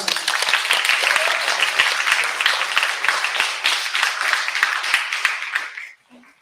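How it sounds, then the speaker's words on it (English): An audience at a Guru Pournima 2021 event gives a round of applause: many hands clap briskly and steadily for about six seconds before cutting off abruptly into near silence. "Yes, one more round of applause."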